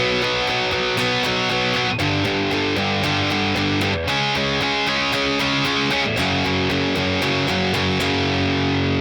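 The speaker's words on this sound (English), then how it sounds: "So those are the 4 chords, which sound like this." Distorted electric guitar plays a repeating line of four power chords from a solo, each chord struck hard and held about two seconds, loud and alone.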